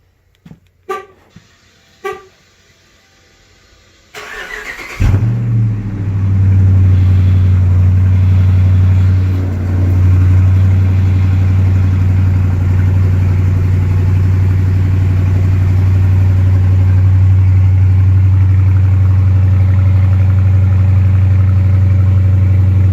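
A few faint clicks, then a Dodge Challenger R/T 5.7 Hemi V8 cold-starts, cranking and catching, settling into a loud, steady low idle that rumbles on without a break.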